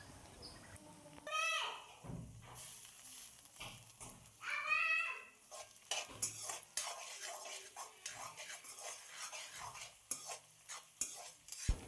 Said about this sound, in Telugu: తరువాత కొద్దిగా పచ్చిమిర్చి కరివేపాకు రెబ్బలు వేసి వేయించుకోవాలి